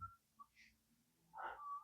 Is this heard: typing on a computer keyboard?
no